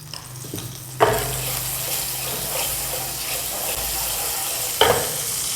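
Cumin seeds tip into about two tablespoons of hot cooking oil in a frying pan, a loud burst of sizzle that settles into steady frying hiss, with a second sharp crackle near the end.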